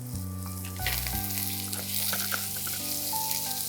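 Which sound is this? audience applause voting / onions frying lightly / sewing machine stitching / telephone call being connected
onions frying lightly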